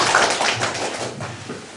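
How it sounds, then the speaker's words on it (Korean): An audience claps at a book launch event in Korea, a dense, steady patter of many hands close by, holding fairly even throughout without any voices. "여러분 큰 박수로 부탁드립니다."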